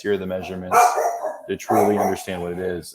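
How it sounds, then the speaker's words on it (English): A pet dog barks in short sharp bursts close by, the barks cutting into and overlapping a person talking steadily. "I'm sorry about the dog. He seems to bark every time there is."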